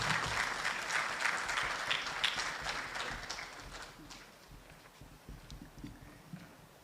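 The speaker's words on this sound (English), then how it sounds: "We clap until she gets here." An audience at a women's leadership forum applauds continuously, a dense crowd clapping that is loud at first and gradually thins and fades toward the end.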